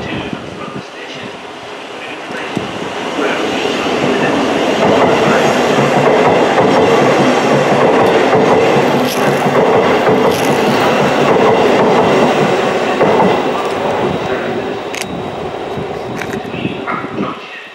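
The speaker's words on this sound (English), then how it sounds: "approaching train is not scheduled to stop at this station." A brand-new South Western Railway Class 707 electric train, unit 707006, rumbles through Richmond station, building to a loud, steady roar with rhythmic wheel clatter, then fading as it passes.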